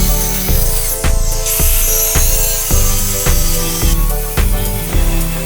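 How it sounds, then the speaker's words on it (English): A power saw makes a plunge cut through a granite countertop, loud and close, with a steady grinding whine broken by a series of regular bumps roughly every half second. "Start here on my plunge cut."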